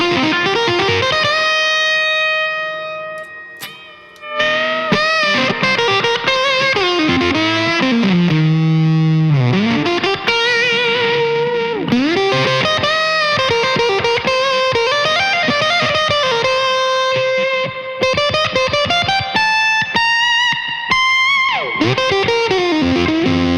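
Thick, heavily saturated electric guitar through a Coriolis Effects Face Deluxe fuzz pedal with the gain turned up, playing a loud, continuous run of sustained chords and bending single notes with no talk.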